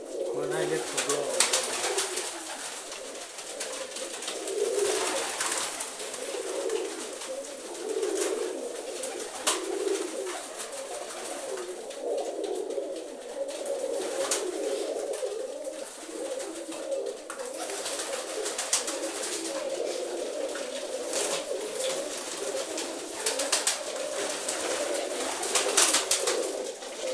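Tumbler pigeons coo steadily in a loft, a soft continuous murmur of several birds close by with occasional wing and shuffling noises throughout.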